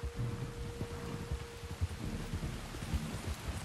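Steady rain falls across an open landscape in the video game Red Dead Redemption 2, a broad even hiss running throughout with low rumbles and soft thuds underneath, plus a brief faint steady tone early on.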